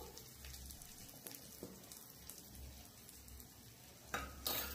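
Prawns fry with chili and salt in a pan, giving a soft, steady sizzle with faint scraping stirs and light clinks, quiet overall, with a louder clatter near the end.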